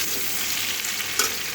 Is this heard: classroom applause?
no